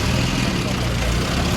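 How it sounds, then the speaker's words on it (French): Several vintage cars, among them a Peugeot 202, idle together at a classic car show in Bletterans, giving a steady, close engine rumble with no break. "Il y a les moteurs qui tournent."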